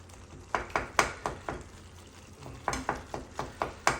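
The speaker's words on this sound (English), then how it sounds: "So you want to cut up your tomatillo like this. Just throw it in the meat. Smash it down," Chopped tomatillo is smashed into ground veal and pork frying in a pan, giving a steady run of short, rhythmic scraping thuds in two bursts over a soft sizzle, close up with no talk.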